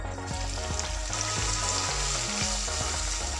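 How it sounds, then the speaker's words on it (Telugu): Whole spices and grated onions fry in oil in a pan for dhaba-style paneer masala, giving a loud, steady sizzle with regular stirring knocks throughout. "ఇవన్నీ ఒక నిమిషం పాటు వేయించుకోవాలి తర్వాత మనం తురుము పెట్టుకున్న ఆనియన్స్ని ఇందులో వేసేద్దాము"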